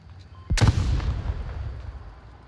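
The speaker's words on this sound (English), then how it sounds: "An exchange of utility or flashbangs" A flashbang blast in the VR shooter Onward: one sharp, loud, close explosive bang that rolls into a long, fading rumble and hiss.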